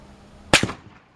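A single sharp Remington M1917 rifle report at a shooting range, a crisp crack followed within a split second by a second thud, heard at a distance with a short decaying tail.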